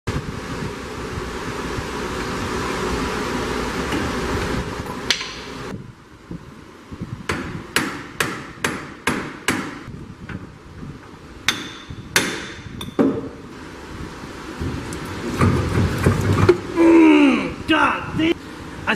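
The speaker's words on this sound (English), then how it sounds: "I'm going to start taking bolts off and hitting stuff with hammers" Hammer blows on Volkswagen parts while bolts are being removed: a run of sharp metallic strikes in an uneven rhythm, close and loud, with wind noise before and after and someone talking.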